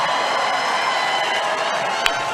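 A large political rally crowd cheers and roars in a steady, dense wash of voices, loud and sustained, with one brief sharp spike near the end.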